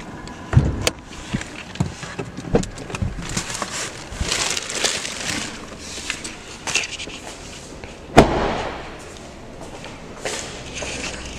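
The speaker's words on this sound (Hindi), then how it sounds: "सो गाइस अब हम गाड़ी का बोनेट ओपन कर लेते हैं" Bonnet of a 2020 Hyundai i20 Asta (O) being opened: scattered clicks, creaks and a sharp latch clunk near the middle, close and fairly quiet against a soft outdoor background with no talk.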